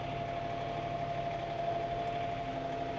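A compact tractor with a hydraulic upgrade runs under auto throttle, a steady close engine drone with a constant humming tone and slight vibration, unbroken and without talk.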